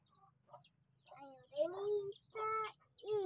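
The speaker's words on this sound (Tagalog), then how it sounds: "Yan yung mga maliliit na manok" Small chickens cluck and chirp close by in short bursts, with a few quiet voices mixed in.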